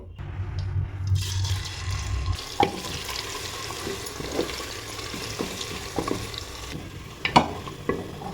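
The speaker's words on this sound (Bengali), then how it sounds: "এই পাতলা করে কেটে রাখা পেঁয়াজটা ফ্রাই করে নেব" Thinly sliced onions dropped into hot refined oil in a pressure cooker, a low hum giving way to a sudden bright sizzle that carries on with scattered stirring knocks and clinks.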